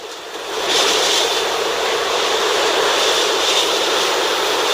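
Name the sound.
hurricane Ida strong wind gust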